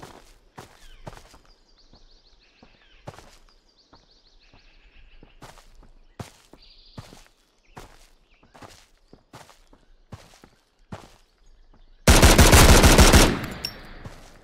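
Gunfire from a weapon in a hardcore survival video game: a series of sharp, separate shots spaced irregularly, then a loud sustained burst of rapid fire near the end, over quiet background sounds.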